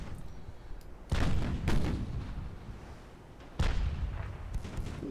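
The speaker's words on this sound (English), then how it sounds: "6-inch gun's doing good work" A 6-inch gun fires in a war video game, with about three heavy booming shots spaced irregularly and a rumbling decay between them.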